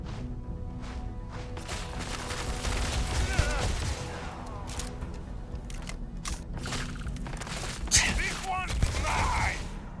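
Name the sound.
gunfire from enemies in the video game Starfield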